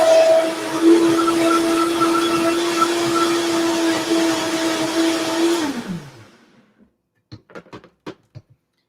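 A blender whirs loudly and steadily while pulsing carrot, onion, broccoli and spinach for raw vegan wraps, then winds down and stops, followed by a few soft clicks and taps.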